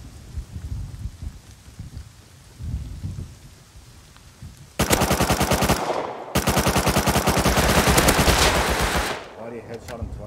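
Gunfire in the survival game Rust: after quiet talk and rustling, two long loud bursts of rapid automatic fire ring out close, the second running several seconds before stopping abruptly.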